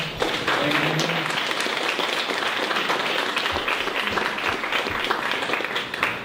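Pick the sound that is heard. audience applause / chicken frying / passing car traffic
audience applause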